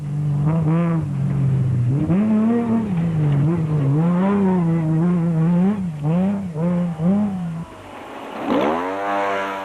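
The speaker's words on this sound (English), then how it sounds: "the new, less modified 4-cylinder Class SP Nissan can hold its own, Vos is fast and the proudly South African hardbody is sounding good" A less-modified 4-cylinder Class SP Nissan hardbody rally truck races in the Limpopo 400 rally in South Africa, its engine revving hard through repeated gear changes before a second rising pass near the end.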